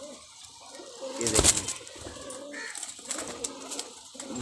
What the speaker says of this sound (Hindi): ये कबूतर देखे आप, ये टैडी कबूतर, और बहुत ही लाजवाब कबूतर है